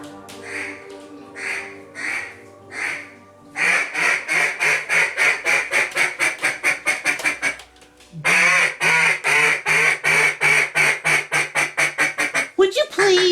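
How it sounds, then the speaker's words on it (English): A duck call is blown indoors in rapid bursts of loud, nasal quacks, first a few spaced honks, then long runs of quick, rhythmic quacking that break off briefly before starting again. "I'm just practicing my duck calls"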